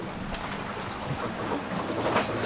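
Water splashing and rushing along the hull of a SIRIUS 40DS sailboat under way at about 7.5 knots on the winter Baltic, heard from inside the bow cabin as a steady, close wash with occasional brighter splashes.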